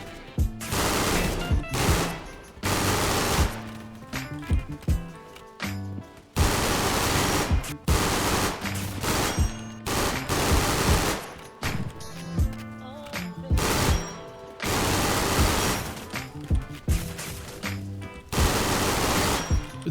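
Rapid DMR gunfire in a video game, loud dense bursts of quick shots repeating in long volleys separated by brief pauses, with almost no talking.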